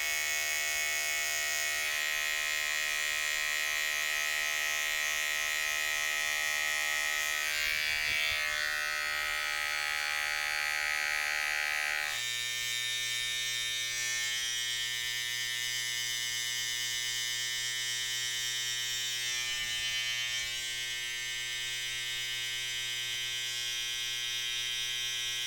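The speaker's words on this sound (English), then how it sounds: "So now I'm going to be going in with the number 1 guard, lever open" Electric hair clippers fitted with a number 1 guard, lever open, cutting hair during a self-administered burst fade: a steady, close, tonal buzz that runs the whole time, shifting in pitch partway through as the cut changes.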